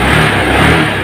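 A motorcycle engine revving hard, loud and close, with a steady dense roar held through the short burst.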